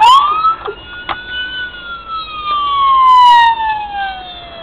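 A loud siren from a police Dodge Charger with factory-installed lights and siren wails nearby, its tone sweeping up then slowly gliding down, with a few clicks and a brief higher burst partway through.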